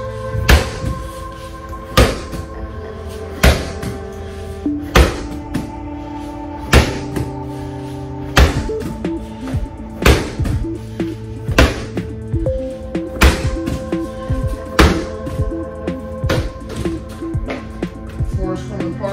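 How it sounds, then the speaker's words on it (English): A medicine ball slams repeatedly onto a floor during an MMA HIIT workout, a series of loud, sharp thuds at a steady rhythm of roughly one every one to two seconds, with music playing underneath. "You can obviously use a heavier or lighter ball as well for the slams."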